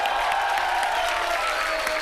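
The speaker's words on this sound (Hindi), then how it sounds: "तो दादा के लिए जोरदार तालियां।" A studio audience at a Hindi comedy show applauds for Dada, a steady dense wash of clapping with some crowd noise and a sustained tone underneath, loud and continuous throughout.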